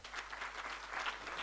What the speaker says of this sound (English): So big round of applause for everybody who attended.